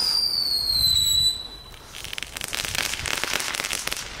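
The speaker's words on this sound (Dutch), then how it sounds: "Sommige knetter kings knallen dus" A high whistling squeal fades out, then a dense run of rapid crackling pops and small bangs from Knetter King firecrackers fills the rest, loud and close.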